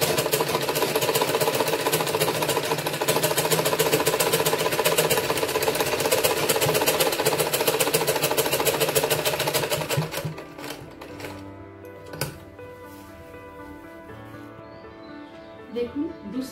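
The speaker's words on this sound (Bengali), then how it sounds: "এবার আমি নিচ পর্যন্ত সেলাই করে দেবো।" A sewing machine stitches a blouse with a loud, fast, continuous mechanical rattle for about ten seconds before stopping, leaving quieter handling noises and a voice speaking afterward.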